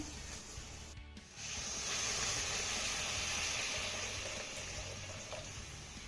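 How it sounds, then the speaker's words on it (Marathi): Hot water poured into a pan of spiced raw-potato curry once the spices have been fried until the oil separates, giving a steady broad rushing hiss that swells after a short pause and continues throughout. "इथे आपले सगळे मसाले तेल सुटेपर्यंत परतून झाले की यामध्ये आपल्याला दोन ग्लास गरम पाणी घालायचं आहे"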